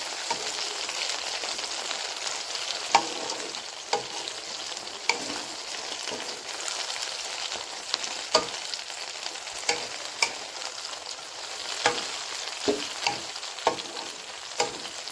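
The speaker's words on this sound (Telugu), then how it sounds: "పండు మిరగాయలు వేయించుకున్న తర్వాత" Ripe red chillies fry in a pan for a tomato pickle, giving a steady, fairly loud crackling sizzle broken by frequent sharp stirring clicks and taps, with no voices.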